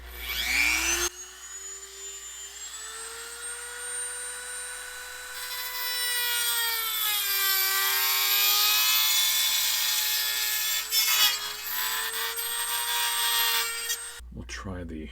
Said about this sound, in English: I'm going to start by using this cutting wheel to create a slit right in here